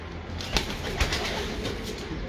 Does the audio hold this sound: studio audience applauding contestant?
no